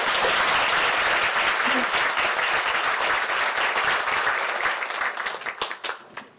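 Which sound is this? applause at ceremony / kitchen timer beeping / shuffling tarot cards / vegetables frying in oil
applause at ceremony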